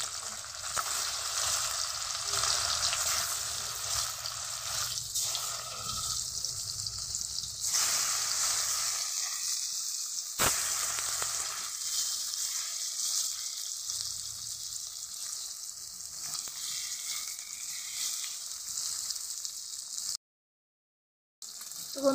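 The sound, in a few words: fish marinated in turmeric and salt frying in oil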